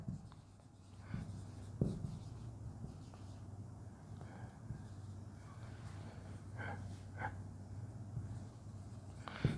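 Marker or chalk scratches across a board during a physics lesson on electric fields, with faint, irregular strokes and taps spread over several seconds against a low steady room hum.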